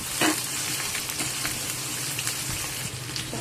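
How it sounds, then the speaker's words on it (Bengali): Sliced onions fry loudly in a pan of hot oil that already holds dried red chillies, sugar and whole cumin. The sizzle is steady and close, broken by occasional stirring knocks. "ভাজা ভাজা লাল লাল করে ভাজা করে নেব"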